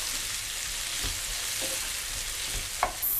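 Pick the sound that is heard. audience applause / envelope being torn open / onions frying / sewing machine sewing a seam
onions frying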